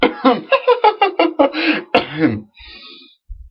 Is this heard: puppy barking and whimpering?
no